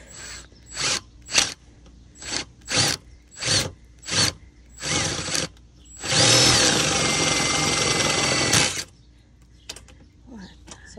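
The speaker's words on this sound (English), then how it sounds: "We did drill the pilot hole all the way through." A power drill driving a screw into a pilot hole whirs in about nine short bursts, then runs in one longer sustained spin before stopping, close and loud.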